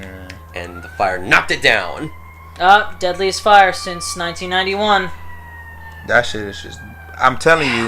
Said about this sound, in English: sirens going on right now.